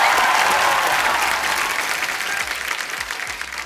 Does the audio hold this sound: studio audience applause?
yes